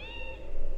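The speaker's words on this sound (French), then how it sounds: "Oh, le chat." A cat meows once in The Unholy Society, a short, loud, close tonal cry with no talking around it.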